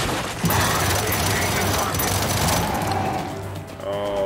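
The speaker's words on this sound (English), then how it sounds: "Throwing frag. Ooh, that was a great grenade toss." A frag grenade tossed and exploding in Gears 5, a sharp bang followed by a loud roar of blast and gunfire that fades out, close and heavy, with a voice talking over it.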